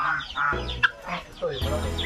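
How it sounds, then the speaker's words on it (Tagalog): Farm geese and turkeys calling close by, a few short honking and gobbling bursts overlapping one another with a person's voice mixed in. "Mga gansa, pabo."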